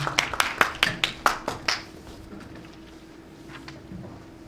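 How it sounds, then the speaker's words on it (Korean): A small indoor audience at a social work practitioners' forum welcomes a speaker with about ten sharp, evenly spaced claps that stop after two seconds, leaving a quiet room. "큰 박수로 모시도록 하겠습니다"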